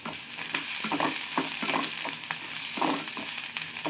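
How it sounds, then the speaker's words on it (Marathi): Onions sizzle and crackle in hot oil in a kadhai, with intermittent scraping and stirring strokes, close up. "आपण कढईतच कांदा भाजून घेणार आहोत"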